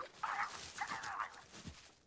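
A puppy yaps and whimpers in two short high-pitched bursts, in a homemade Hornby/Bachmann model railway remake of Thomas and the Magic Railroad, with a faint low thump near the end.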